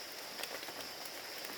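Morning rain falling outdoors onto leaves and surfaces, a steady dense patter of drops with a few louder splats close by, continuous and unaccompanied by speech.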